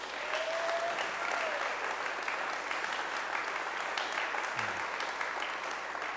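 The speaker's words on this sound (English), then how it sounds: "Give him another round of applause." An audience at a space challenge announcement event applauds steadily, a dense even wash of many clapping hands heard from some distance, with no talking over it.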